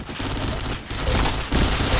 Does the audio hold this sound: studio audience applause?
no